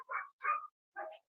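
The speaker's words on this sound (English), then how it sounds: "Look like you have a dog in the background right now" Neighbors' dogs bark in the background, three faint separate barks with short gaps between them and quiet in between.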